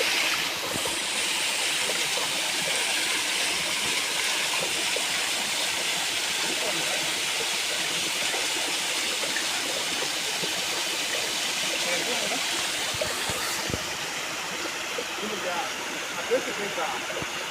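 Water rushes steadily at Valukkuparai waterfall near Meiyanuththupatti, a loud, continuous close-up roar of falling water that holds unbroken throughout, with a faint voice briefly in the background.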